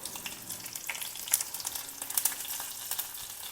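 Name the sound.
tadka frying: mustard seeds, urad dal, green chilli in oil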